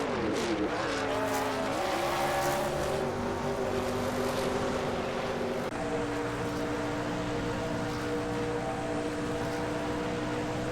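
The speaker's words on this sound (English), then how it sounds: "watching these R-driven cars racing each other in the simulator" Racing cars in a NASCAR simulator video game, engines whining and shifting pitch as they accelerate and pass, a continuous loud roar with rising tones and a gear change midway.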